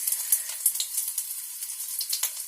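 Ginger dropped into hot oil with five-spice seeds over medium heat crackles in a steady, bright sizzle, with small pops scattered throughout and no voices.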